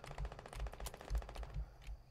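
Quiet rapid gunfire in Fortnite, several rhythmic bursts of shots with low booming thuds, fading toward the end; no talking.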